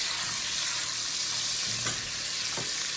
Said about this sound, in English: All right, so I'm gonna go ahead and flip these steaks.